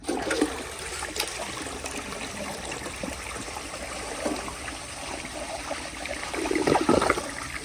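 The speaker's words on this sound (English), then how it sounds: "here's a flush" A 1991 round-bowl Cisa toilet flushes, rushing and gurgling water with trickles and a louder surge near the end, heard alone and close.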